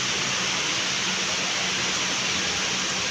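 Heavy rain mixed with hail pours down during a thunderstorm, a dense, steady roar of water and ice with no break, close and continuous.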